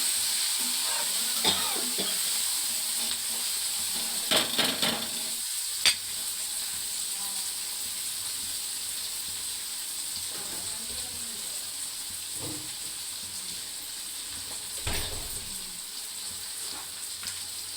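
Onions added to a pan with chillies and curry leaves, frying with a steady soft sizzle and occasional stirring clinks and scrapes, close and continuous.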